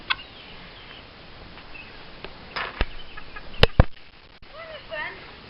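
Chicken clucking and flapping close by outdoors, a few sharp bursts of wing flaps and scuffling among soft clucks.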